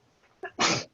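A single sharp human sneeze bursts out close by in a quiet room during a spear fighting class, preceded by a brief intake of breath.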